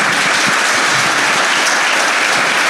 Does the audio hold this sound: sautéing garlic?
no